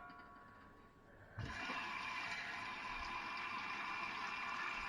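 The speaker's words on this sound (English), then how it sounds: "I'm just going to fill it up with hot tap water" Hot tap water gushes into a Ball electric canner fitted with its rack, starting abruptly after a quiet moment and continuing as a steady, close splashing fill.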